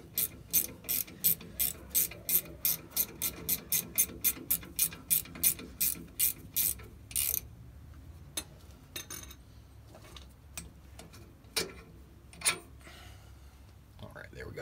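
Ratchet loosening a rear brake caliper bolt on a 2004-2008 Ford F-150, with a rapid, even train of close clicks that stops halfway through, followed by sparse metallic clanks and knocks.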